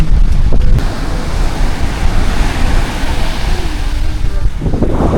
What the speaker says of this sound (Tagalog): Malakas po yung alon ngayon.